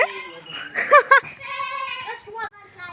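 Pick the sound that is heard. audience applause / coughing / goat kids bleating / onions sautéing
goat kids bleating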